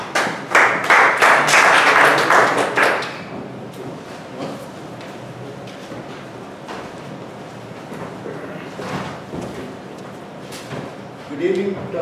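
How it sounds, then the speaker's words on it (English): Audience at a Toastmasters meeting gives a round of applause, a burst of clapping about three seconds long that stops abruptly, followed by quiet room sounds and faint talk. "A round of applause to him."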